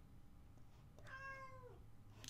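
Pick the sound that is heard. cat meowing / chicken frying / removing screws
cat meowing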